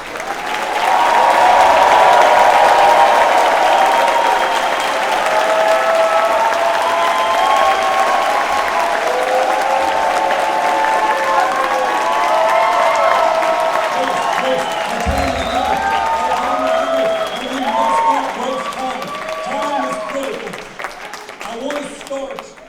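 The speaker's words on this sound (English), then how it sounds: "give a round of applause" Sustained applause from an audience at a Green Party rally in Austin, Texas, loud and continuous at first, then thinning with scattered claps and some crowd voices toward the end.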